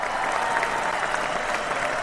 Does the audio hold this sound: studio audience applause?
yes